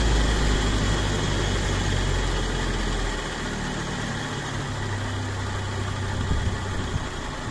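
A Land Rover engine idling at about 1700 RPM makes a steady, close, rumbling hum that eases slightly lower partway through and then holds even.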